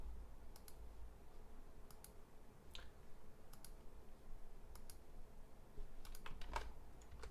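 Soft, rapid keystrokes on a computer keyboard, steady irregular tapping with a few sharper clicks, close and quiet with no one speaking.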